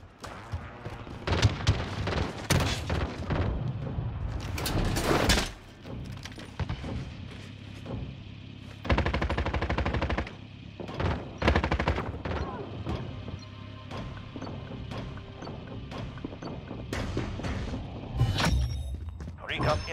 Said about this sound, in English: I'm getting shot from behind, I know that one.